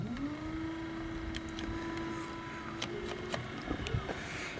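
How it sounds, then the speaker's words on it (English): A dinghy's motor runs steadily at Port Penrhyn, Bangor, a constant mid-level drone with a few faint clicks and knocks over it. "the motor's running"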